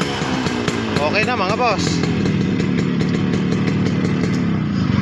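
A Honda HD3 motorcycle engine with a misfire idles loudly and close after being restarted for testing, its steady throbbing rumble running throughout while someone talks over it.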